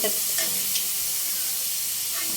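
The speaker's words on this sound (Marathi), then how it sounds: "कांद्याला पण तसेच फ्राय करून घेणार आहोत आपण." Onions frying in a pan for pav bhaji give a steady, close sizzle and hiss, with light stirring scrapes near the start.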